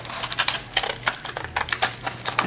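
Scissors trim the edging of a paper Egyptian mask, a rapid run of close, crisp snips and paper crinkles following one another in a quick uneven rhythm.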